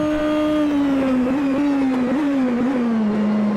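Engine note of the 2021 Nissan Super GT GT500 GT-R race car in Assetto Corsa, a loud sustained drone that holds near one pitch and sags slightly, with small wobbles as the revs shift.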